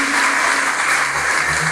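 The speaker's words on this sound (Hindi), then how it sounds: "एक बार जोरदार ताली उनके लिए बजाइए।" Loud, steady applause fills a community seminar hall for a helper being honored, a continuous wash of clapping from a large audience with a faint voice underneath.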